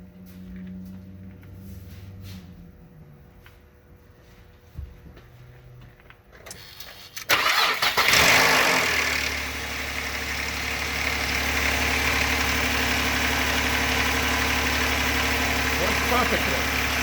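A car with a completely dead battery is cranked with a Tacklife T8 portable jump starter; a brief crank catches and the engine starts, then settles into a steady, loud idle.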